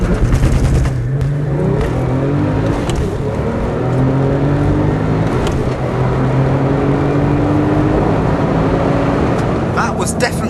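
A sports car's launch-control start, held at 5,000 RPM in first gear, then revving hard and pulling away in surging acceleration, pitch climbing through the gears, with a voice talking over it.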